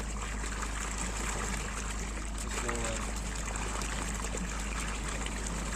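Water runs steadily through a village supply pipe line, a continuous broadband trickling and gushing that stays even throughout, with faint voices mixed in the background.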